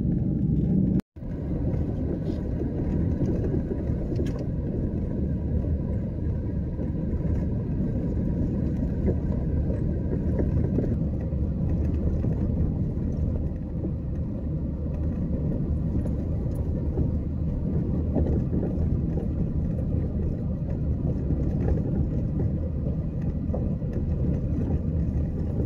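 A car cruising on a road in Central Florida, heard from inside as a steady low rumble of engine and tire noise that continues unbroken after a brief cut near the start, with no talk.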